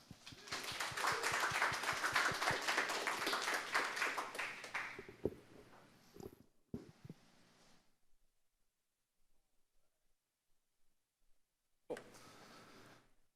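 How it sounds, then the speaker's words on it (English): An audience at a tech talk gives a brief round of applause, loud and dense for about five seconds before thinning to a few last claps and near silence. "so give him a big round of applause."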